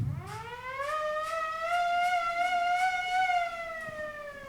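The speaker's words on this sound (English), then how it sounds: "And he's also going to be playing the air raid siren," A hand-cranked air raid siren played as band percussion at a high school band concert, its wail rising steadily and then holding a loud, sustained harmonic tone for several seconds, heard alone.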